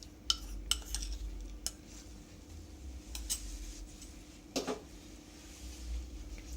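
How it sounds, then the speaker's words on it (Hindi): Spoon scrapes and taps against a bowl while chicken pieces are mixed into a marinade of red chili powder, salt and cornflour, giving scattered soft clinks over a quiet background. "हम इसे अच्छे से मिक्स कर लेंगे"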